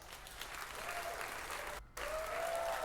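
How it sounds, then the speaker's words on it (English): Studio audience applause on a late-night talk show, a steady wash of clapping that briefly drops out near the end before resuming, with a faint voice underneath. "Applause sign."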